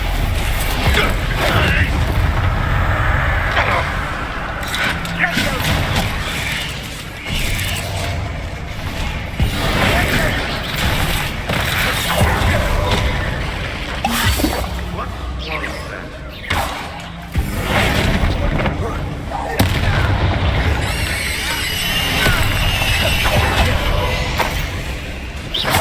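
Bombarda spell blasts in Hogwarts Legacy burst and crash repeatedly through a loud, dense wall of game sound and music, with no pause across the whole stretch.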